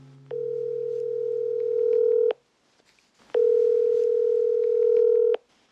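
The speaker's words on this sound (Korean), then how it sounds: "한번 전화를 해보겠습니다." A telephone call tone: two long, steady electronic beeps, each about two seconds, separated by a short pause, clear and alone with no talking.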